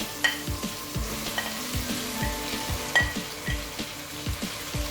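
Carrots and green beans hit a hot pot of frying oil while cooking a Cameroonian potato hot pot, followed by a steady sizzle and repeated scraping stirs of a spoon against the pot, close and fairly loud.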